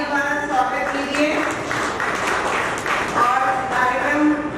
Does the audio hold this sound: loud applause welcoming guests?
yes